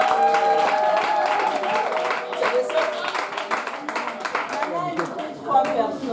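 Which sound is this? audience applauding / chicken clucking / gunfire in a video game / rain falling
audience applauding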